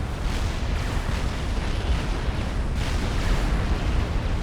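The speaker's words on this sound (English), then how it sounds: "it's got the most ridiculous series of explosions" Dense rumbling video game explosions roll on continuously, a loud wall of booms and crackle with no clear gaps and no talking.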